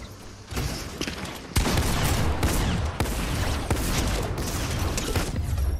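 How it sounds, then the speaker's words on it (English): Dense, loud bursts of rapid gunfire fill the Fortnite game audio almost continuously, with sharp heavy volleys and a few louder impacts, and no talk over it. "He's shooting at me."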